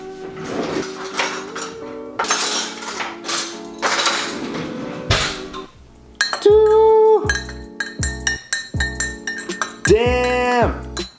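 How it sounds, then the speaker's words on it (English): A spoon clinks against a coffee cup in a run of bright, ringing taps with short pauses, close and clear, some strikes louder than others, while no one talks. "let me just grab a spoon"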